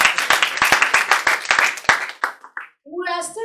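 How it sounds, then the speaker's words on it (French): An audience claps for a woman, a dense burst of many hands that thins into scattered claps, followed by brief voices near the end. "Clap for her."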